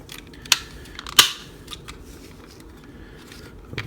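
Plastic panels on a Mastermind Creations R-17 Carnifex transforming toy snap shut, giving two sharp clicks followed by a few fainter ticks and light handling, close and alone without talk.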